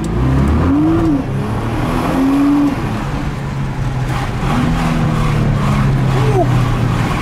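Stock-exhaust Nissan GT-R sports car accelerating, a loud continuous engine drone with rising revs that climb and fall repeatedly, close up and steady throughout, with a voice talking over it.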